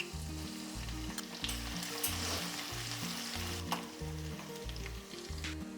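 Chopped garlic sizzles and crackles steadily in oil in a pan, close and continuous, while a low rhythmic mechanical hum pulses underneath.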